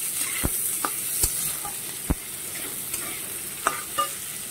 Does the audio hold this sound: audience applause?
no